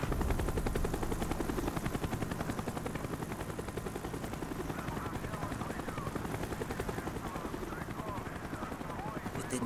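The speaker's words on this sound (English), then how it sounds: "The chopper is coming around again." A helicopter circles in the video game Call of Duty Black Ops, a continuous rapid rotor chop with rumbling engine noise that stays loud and steady throughout, mixed with game ambience.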